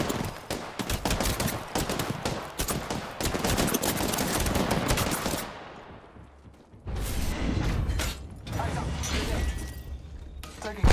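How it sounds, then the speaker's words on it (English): Heavy gunfire in Apex Legends, dense rapid bursts of automatic shots for several seconds, a short lull, then the firing resumes loud and close. "Getting shot at."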